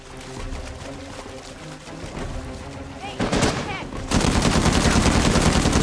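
Uncharted 4: A Thief's End firefight, with rapid gunfire building from scattered shots into a loud, dense automatic burst that rattles on continuously near the end, a voice faintly underneath.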